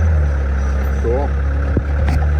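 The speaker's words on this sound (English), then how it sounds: "This boy's got a nice little skid steer." A small skid steer engine idles with a loud, steady low rumble close by, as a voice speaks briefly over it.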